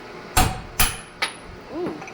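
A hammer smacks a vehicle's carrier bearing three times in quick succession, sharp metallic blows up close that fade in strength, followed by a faint ringing scrape.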